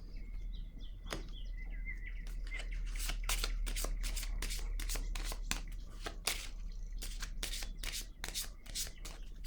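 Tarot-style cards riffled and shuffled by hand, then laid down for a reading, giving a quick run of crisp, close flicks and soft slaps that clatter in bursts through most of the stretch.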